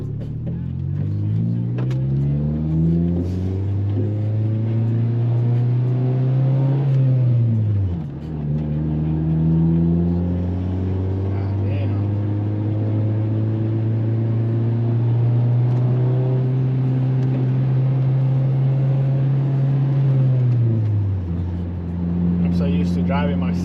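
A small Honda Civic accelerates hard, its engine note climbing steadily through the gears with clear shifts between pulls, loud and close from inside the car, with occupants talking over it.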